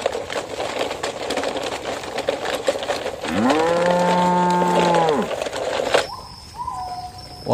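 A cow loaded onto a truck gives one long, loud moo over a rustling outdoor background, followed by a brief higher tone and some movement noise.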